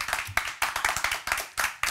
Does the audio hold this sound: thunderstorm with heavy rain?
no